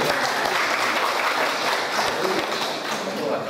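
Steady, dense applause fills a Hindu community gathering in Batam, a continuous wash of many hands clapping at even loudness throughout.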